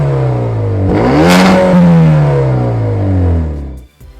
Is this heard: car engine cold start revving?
yes